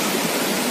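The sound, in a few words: water gushing from burst hydropower project pipe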